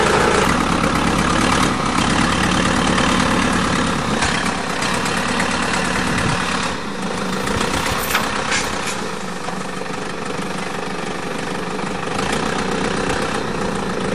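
A former rollercoaster van's engine idles steadily and loudly, a constant low rumble that eases slightly near the end, with no talking.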